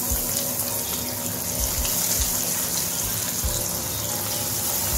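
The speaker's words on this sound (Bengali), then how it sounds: "আমি একটা ননস্টিক প্যানে তেল বসিয়ে গরম করে নিয়েছি ভাজার জন্য। এখন আমি দিয়ে দিচ্ছি টিকিয়াগুলো।" Poha and potato cutlets fry in hot oil in a nonstick pan over medium heat, with a loud, continuous, close sizzling hiss and no voices.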